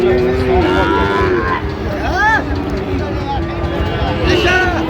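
Sahiwal cattle moo repeatedly at a busy livestock market, several drawn-out calls rising over continuous crowd chatter and nearby talking.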